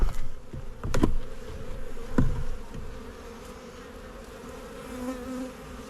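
Honey bees buzz steadily around an open hive during an early April inspection. A continuous droning hum runs throughout, with a few louder close passes near the start, and no one speaks.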